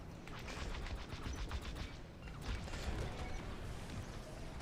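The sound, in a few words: lasers and explosions in Star Wars Squadrons video game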